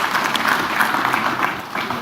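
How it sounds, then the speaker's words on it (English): Audience applause in a conference hall at an African investment summit forum, a dense steady patter of many hands clapping close by for about two seconds with no voices on top. "A round of applause for the wonderful lady."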